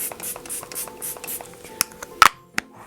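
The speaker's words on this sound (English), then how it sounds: "I'm also going to give myself a quick spritz of the Quick Fix XX spray." Quick Fix XX setting spray is spritzed in a few short, sharp hissing bursts close by, following a run of soft rhythmic rustling and tapping.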